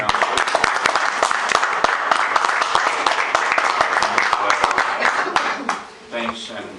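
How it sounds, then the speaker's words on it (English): Sustained applause fills a council meeting room with many hands clapping densely and steadily for several seconds before dying away, followed by a brief murmur. "We love to hear the applause"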